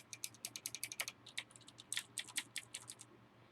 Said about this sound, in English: they got that sound that reminds me of older keyboards